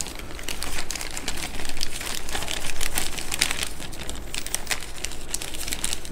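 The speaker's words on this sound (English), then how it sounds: "I'll rip open our package." A plastic package of drain plug O-rings for a Harley-Davidson is ripped open and handled. Loud, close crinkling and tearing crackle on and off throughout, with no one speaking.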